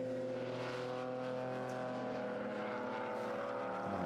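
Modern and future classic race cars lapping Silverstone circuit during a CSCC race, a distant steady engine drone with layered tones droning on continuously, no talk.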